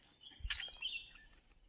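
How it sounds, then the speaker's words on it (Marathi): Birds chirp around an old village temple in Konkan on a sunny evening: a few quick, bright tweets and a short trill, fairly faint against a quiet background. "जर तुम्ही शांत राहून ऐकाल तर तुम्हाला पक्ष्यांचा तो सुंदर किलबिलाट ऐकता येईल।"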